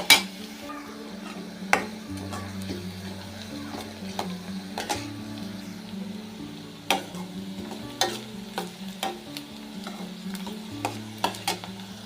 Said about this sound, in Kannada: ಈರುಳ್ಳಿ ಹಸಿ ವಾಸನೆ ಎಲ್ಲ ಹೋಗೋವರೆಗೂ ನಾವು ಎಣ್ಣೆ ಒಳಗೆ ಚೆಂದಾಗಿ ಬೇಯಿಸ್ಕೋಬೇಕ್ರಿ